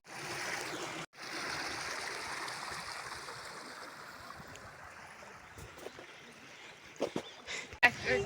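Water streams and rushes steadily beside rain-soaked farm fields, a broad continuous wash heard close up, with a brief break near the start and a few sharper splashes toward the end.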